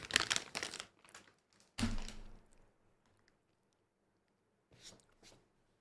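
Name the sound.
crunchy Red Rock Deli sweet chili and sour cream chips being eaten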